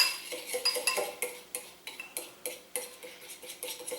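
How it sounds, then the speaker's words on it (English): Ingredients for an apple upside down cake being mixed in a bowl, a spoon or whisk clinking and scraping against the sides in quick, uneven strokes, close and fairly quiet with no talking. "I'm just going to mix this up really well"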